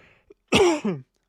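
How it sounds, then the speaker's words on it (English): One harsh, throaty cough bursts out after a brief quiet moment, with a short second push at its tail, then silence. "Sorry about the coughing."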